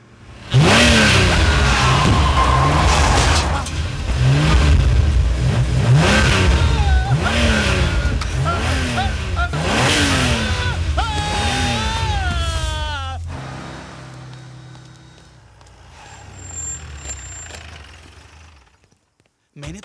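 Car engine in a Tarzan climax scene revving hard in repeated surges as the vehicle drives off, loud and close, then fading away into the distance with a few scattered effects near the end.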